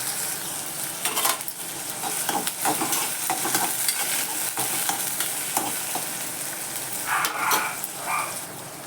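Onions sautéing in a pan, a loud continuous sizzle close by with frequent spatula scrapes and stirring clatter throughout, no speech.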